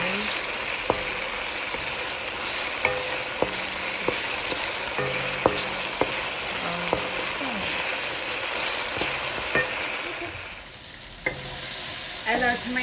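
A big spoon stirs rice and chickpeas through a sizzling pot, with regular knocks and scrapes against the metal over a steady frying hiss, close up and without talk.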